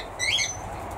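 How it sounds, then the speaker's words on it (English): Java sparrows, also called Java finches, in an aviary give a brief burst of high chirping squawks, fairly close, over a steady background hiss. "we have 5 Java Sparrows, or Java Finches, depending on what part of the world you're from"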